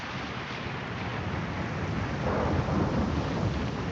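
A thunderstorm at sea in the game Pillars of Eternity II: Deadfire fills the scene with a dense, steady roar of rain and wind, swelling into a low rumble of thunder midway, with no voices.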